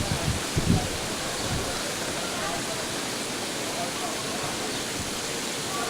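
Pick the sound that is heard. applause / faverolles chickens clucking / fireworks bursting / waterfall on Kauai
waterfall on Kauai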